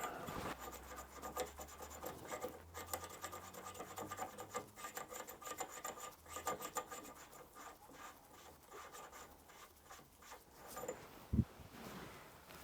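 Soft, gritty rasping as a valve is ground into its seat by hand with grinding paste in slow back-and-forth turns, close but quiet, ending with a brief knock.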